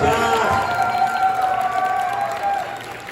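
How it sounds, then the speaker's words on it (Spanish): A television audience applauds and cheers for an arriving guest musician and actor, a loud, sustained wash of clapping and crowd noise with a steady musical tone running through it before it tapers slightly. "fuerte el aplauso,"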